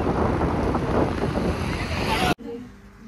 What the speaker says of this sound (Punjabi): ਮੈਂ ਸਕੂਟਰੀ ਚਲਾ ਰਹੀ ਹਾਂ, ਨਾਲ ਨਾਲ ਮੈਂ ਸ਼ੂਟ ਕਰ ਰਹੀ ਹਾਂ।